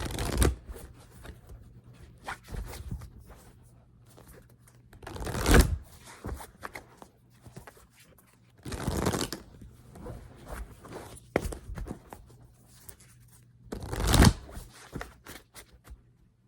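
Oracle cards being shuffled by hand, close up, in several loud riffling bursts spread across the clip with quieter card handling and faint rustling between them.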